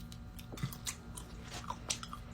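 Close, quiet crunching and chewing of frozen honey jelly, with a few crisp bites and soft mouth sounds over about two seconds and no talking.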